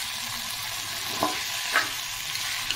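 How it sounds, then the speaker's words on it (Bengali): Boal fish head frying in a pan with oil, a steady close sizzle running throughout, broken by a few soft scraping knocks as the head is broken apart with a utensil. "মুড়োটা দিয়ে যেই একটু ভাজা ভাজা করে নিয়েছি, এইবারে মুড়োটাকে একটু এইভাবে ভেঙে চুড়ে নেব।"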